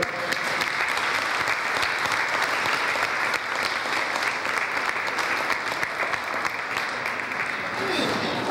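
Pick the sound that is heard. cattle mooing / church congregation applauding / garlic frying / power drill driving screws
church congregation applauding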